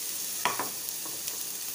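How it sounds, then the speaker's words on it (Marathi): Dal fries in a little oil in a pan, giving a soft, steady sizzle with a couple of brief stirring scrapes near the start. No one speaks. "पॅनमध्ये थोडे ऑइल घालून डाळ फ्राय करून घ्यायची"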